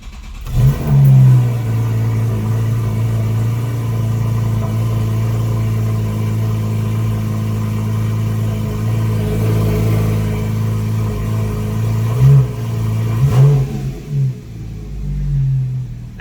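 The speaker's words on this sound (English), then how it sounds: "We're gonna give her a start and see what she sounds like." A 2014 Porsche 911 Carrera S fitted with a Fabspeed valvetronic exhaust starts up close by with a sharp burst, then settles into a loud, steady idle rumble with a couple of brief revs.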